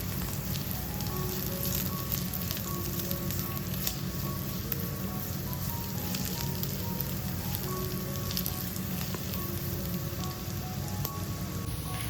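Chili flakes sauté in a pan of beetroot and carrot stir-fry, an even, dense crackling sizzle like rain on a surface that continues steadily for the whole stretch.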